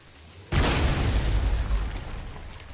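A crystal struck by a shot bursts in the video game God of War: a sudden loud explosive blast with a heavy low rumble, then a sustained crackling roar that slowly fades, with no talking.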